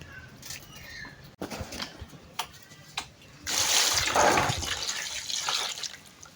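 Water splashes and pours into a container meant for holding freshly caught fish, a few short splashes followed by a louder, sustained gush close by.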